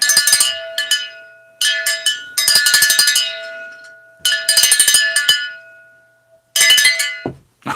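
Bright metallic bell chimes ring out in several bursts with short pauses between, each strike ringing on with a sustained tone, loud and close.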